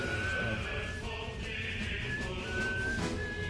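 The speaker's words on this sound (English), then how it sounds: "Who's whistling? Someone whistling?" A person whistling a wavering tune in a room during a Smash Bros. Ultimate playoff broadcast, a thin pitched line over steady background murmur, fairly faint and continuous for a few seconds.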